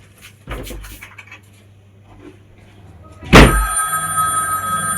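A telephone rings indoors in a family home, its steady tonal ring starting sharply after a loud thump and continuing to the end, with faint earlier knocks and rustles.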